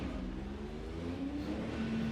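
Engine of a BTCC NGTC touring car from inside the cockpit in the rFactor 2 racing game, a steady low drone with the pitch climbing as it revs, heard alone.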